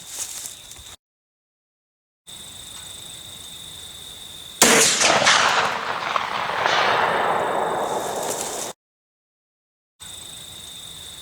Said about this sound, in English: now we're 400 yards away with a 500 Smith Wesson Magnum